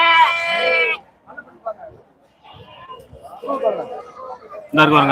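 Lambs bleat loudly at an outdoor Friday goat and sheep market, with one long wavering cry at the start and another at the end, separated by quieter scattered bleats and background crowd chatter.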